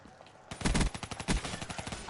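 Rapid automatic gunfire from Call of Duty Black Ops 3 bursts in suddenly after a quiet moment, a loud, dense run of shots with a rattling rhythm.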